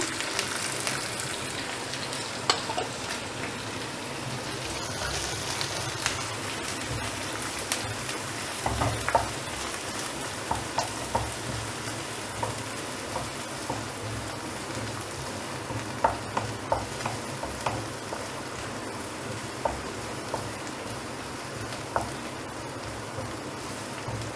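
Chopped onions frying in a pan over medium flame for dal palak, after ginger: a steady close sizzle with occasional stirring clicks and scrapes, no talk.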